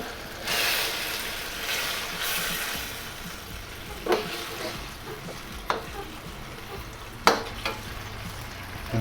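Mushrooms and vegetables stir-fry in a thick sauce in a hot pan for beef pan-fried noodles, with a soft steady sizzle and a few sharp scraping clatters of the utensil against the pan.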